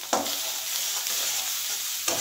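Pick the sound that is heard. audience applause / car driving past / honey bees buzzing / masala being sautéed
masala being sautéed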